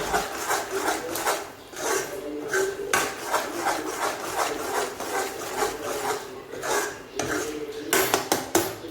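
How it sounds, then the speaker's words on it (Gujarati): A spoon mixes thabdi penda with ghee in a pan, producing continuous close scraping and rasping strokes against the metal with occasional clinks, in a steady uneven rhythm with no talking. "હવે આપણે તેમાં બે ચમચી જે લુઘી નાખીશું અને સારી રીતે ચમચાની મદદથી મિક્સ કરી લેશું"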